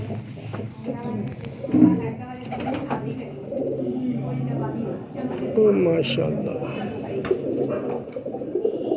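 Soft cooing of a Kasuri pigeon mixed with close talking, a voice running over the low, murmuring coos throughout.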